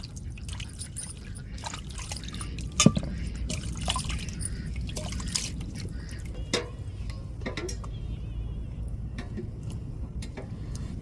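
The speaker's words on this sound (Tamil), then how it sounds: "நல்லா கழுவிட்டு மறுபடி தண்ணியை ஊற்றி அடுப்பில் அவிய போட்டுருவோங்க" Water is poured into a cooking pot over washed potatoes, a steady splashing stream with small drips and clinks, fairly close and continuous.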